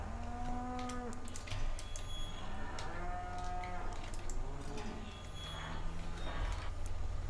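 Dairy cows in a farming video game, several overlapping moos close by over a steady low hum, one after another with little pause.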